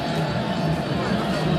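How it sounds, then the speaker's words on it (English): A football crowd at a women's club match in a CAF COSAFA Champions League fixture keeps up a continuous, distant roar of chanting and singing across the stadium. "A crowd looking forward to the second half as they continue to chant and sing and celebrate"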